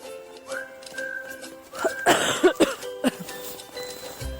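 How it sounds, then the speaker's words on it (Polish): A fit of harsh, close coughing, several rough bursts in a row, following a few seconds of quieter background sounds. "No kończę, bo już mnie kaszel męczy."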